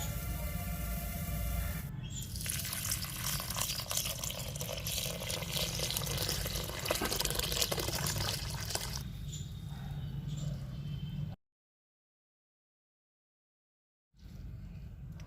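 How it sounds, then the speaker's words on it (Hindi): Rice and hulled moong dal being rinsed in water for khichdi, with steady sloshing and swishing of grains and water that runs continuously close by, then a brief silence before the washing picks up again. "चावल और दाल को हम 3 से 4 बार अच्छे से धो लेते हैं।"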